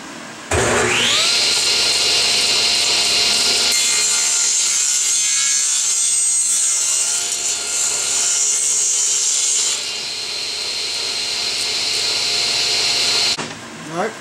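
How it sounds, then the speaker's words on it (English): A saw cuts lumber boards to dimension against a stop in a woodshop, one loud, sustained, whining cut that spins up quickly, runs for over ten seconds, then winds down. "line it up to the stop, and we'll trim these all off to the proper dimension."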